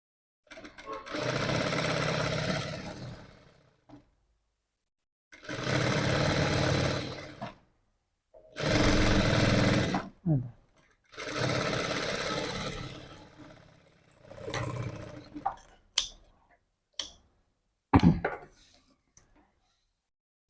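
An electric sewing machine stitches a thin dori strip for blouse hangings in several separate runs of a few seconds each, with quiet gaps between them and a few sharp clicks near the end, recorded close up.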